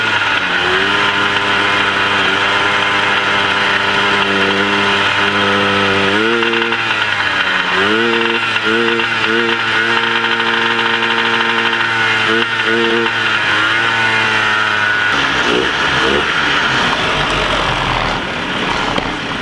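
A Trail Boss left unregistered for fifteen years runs with a broken, sticking clutch. Its loud engine drones steadily throughout, pitch dipping and rising in repeated wavering surges before settling lower near the end.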